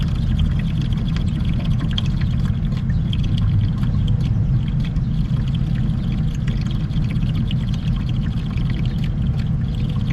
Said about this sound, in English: Right now we're filling up on DEF.